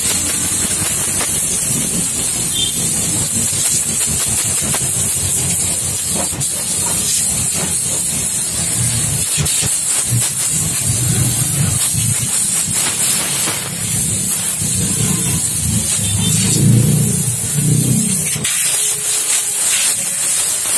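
Cleaner sprayed onto a Honda Genio scooter's air filter, a steady loud hissing spray that runs continuously for about twenty seconds, close to the microphone with no talking.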